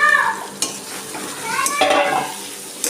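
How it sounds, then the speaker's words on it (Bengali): Potatoes go into a pan of spiced masala that is already frying, followed by a steady sizzle and a few stirring scrapes. A fainter background voice can be heard. "মশলাটা আমার কষানো হয়ে গেছে, আলুগুলো দিয়ে দিচ্ছি।"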